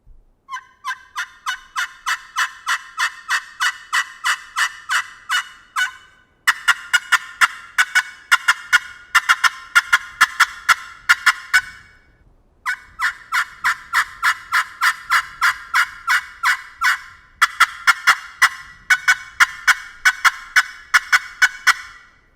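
Turkey yelping and cutting on a ceramic pot call, loud and close, in steady rhythmic runs of sharp raspy notes broken by brief pauses, with no talking over it.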